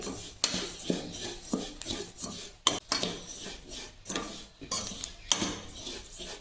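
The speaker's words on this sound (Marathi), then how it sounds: "नंतर इथे बडीशोप टाकली तेलामध्ये." Fennel seeds and spices roasting in oil in a pan for homemade kala masala, heard as steady scraping, rubbing and stirring with repeated metallic clinks of a utensil against the pan, fairly close and with no talk.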